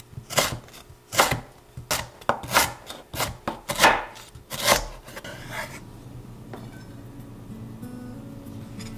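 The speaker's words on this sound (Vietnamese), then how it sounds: "Cắt lát mỏng luôn nha" Lemongrass is sliced thinly with a knife on a board, giving about nine crisp, rhythmic cuts over the first five seconds, each a firm thunk with a faint rasp, followed by quieter background with no further cutting.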